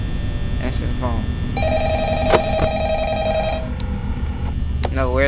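A repeating electronic telephone ring in the video game Five Nights at Freddy's sounds through steady background hum, its warbling tones returning in short bursts over several seconds.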